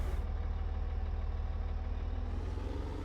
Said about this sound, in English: Love the sound of this tractor though.